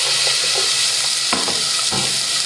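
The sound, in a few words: onions sautéing in olive oil in a pan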